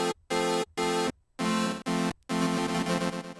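A bright synth pad plays in choppy repeated bursts with short silences between, sounding wide and spacious with a delayed echo feel.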